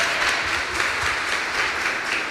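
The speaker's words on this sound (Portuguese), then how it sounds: "bata palma para esse projeto" An audience at a lecture applauds a project with steady, dense clapping that fills the whole stretch at an even level, with no voices over it.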